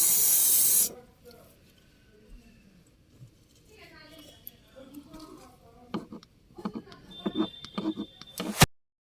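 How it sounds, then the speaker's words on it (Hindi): Aerol sticker removal spray hisses onto glue left on a car windshield in one loud, short burst at the start, followed by quieter handling noises and a faint voice in the background. "तो इस ग्लू को हटाने के लिए हम पहले स्प्रे करेंगे और फिर स्क्रैच करेंगे बाकी बचे ग्लू को निकालने के लिए।"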